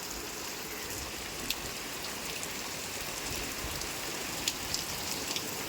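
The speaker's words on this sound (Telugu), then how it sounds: "మంచి వాన ఫ్రెండ్స్ ఈరోజు." Heavy rain pouring steadily, a dense even hiss of drops hitting surfaces close by, with a few sharper drip spatters standing out; no voices.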